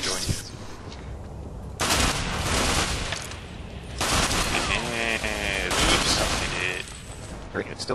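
Rapid bursts of gunfire from the online shooter Ghost Recon Online, loud and dense with sustained volleys and brief gaps, ringing game effects layered over them and no clear talk.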